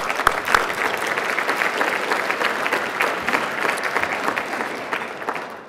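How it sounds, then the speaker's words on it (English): An audience at a Florida conference applauds steadily, a dense sustained clapping from a large crowd that carries on for several seconds before easing slightly. "I want to thank Scott Pruitt, so let's give him a round of applause."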